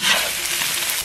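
Prepared chopped chili hits a hot pan with a loud burst of sizzling, a dense hissing crackle that stays strong and close for about a second.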